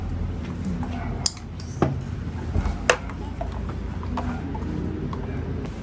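A spoon scrapes and clinks against a bowl while red velvet cake batter is mixed by hand, with a few sharp knocks standing out over soft, continuous stirring in a quiet kitchen.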